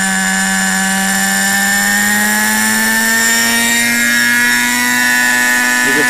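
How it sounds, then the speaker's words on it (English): A Raptor 30 RC helicopter fitted with a Flymentor 3D stabilizer hovers close by, its nitro engine holding a loud, steady high-pitched whine with a continuous rotor drone and slight shifts in pitch, with no talk. "This is where the chopper doesn't hold its position."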